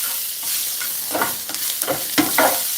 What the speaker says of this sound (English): let's go ahead and add in our beans. Give this a good mix.